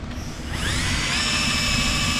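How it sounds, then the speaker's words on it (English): A power drill spinning a rubber wheel whines as it spins up, its pitch rising and then holding at a steady high-speed buzz, close and loud, used for debadging a Toyota Camry. "this right here, this is a what I like to call a rubber wheel"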